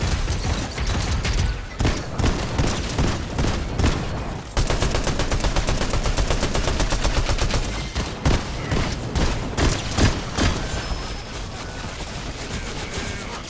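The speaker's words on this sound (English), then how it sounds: "Why the fuck did I just get shot at?" Heavy, sustained video-game gunfire rattles nonstop at the player, dense overlapping shots and bursts filling the whole stretch with only brief dips.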